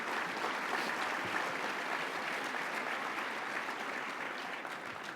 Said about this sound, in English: A round of applause for our airport.